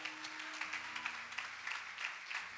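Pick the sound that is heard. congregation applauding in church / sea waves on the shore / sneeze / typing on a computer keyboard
congregation applauding in church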